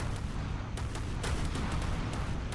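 Ship turret guns fire in the ShipCrafter naval video game as a dense barrage of booming artillery shots, loud and continuous with sharper blasts standing out, and no speech.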